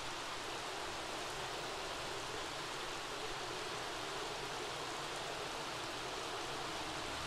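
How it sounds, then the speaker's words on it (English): Heavy rain pours steadily in The Sims 3, a dense, even hiss of falling water that holds at the same level throughout with no pauses or voices. "It is pouring."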